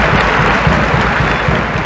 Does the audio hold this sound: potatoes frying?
no